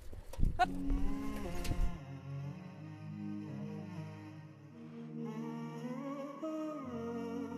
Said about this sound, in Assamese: গাড়ী গৰুৰ গাড়ী যিটো বৰ্তমান সময়ত প্ৰায় নোহোৱা হৈ গৈছে